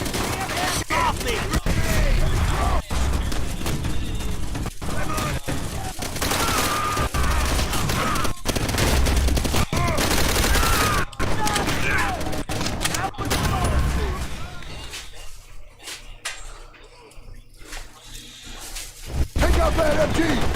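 A video game battle with dense, rapid gunfire, including sustained machine-gun bursts and sharp individual shots. Voices shout through the fighting, the shooting thins out briefly near the end, and a final loud shot follows.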